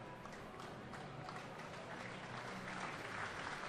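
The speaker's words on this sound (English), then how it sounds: "And he's getting a well-deserved round of applause." A stadium crowd applauding a rugby player as he leaves the field during a Super Rugby final, steady distant applause washing underneath.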